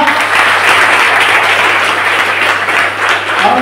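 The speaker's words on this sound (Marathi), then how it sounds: "जोरात टाळ्या देवाला धन्यवाद देऊया." Loud, dense applause from a congregation at a prayer gathering, a steady wash of many hands clapping close by for the full stretch, with no voices over it.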